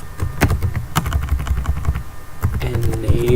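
Typing on a computer keyboard during a NixOS configuration session, a fast run of close, crisp key taps with uneven rhythm, moderately loud and continuous.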